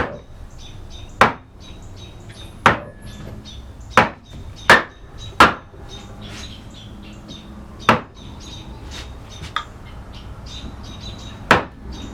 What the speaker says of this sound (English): just these gouge cuts here, and it's done